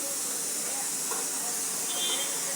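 A pot of vegetables with turmeric boiling on the stove for a kurma, giving a steady, soft bubbling hiss with no talking.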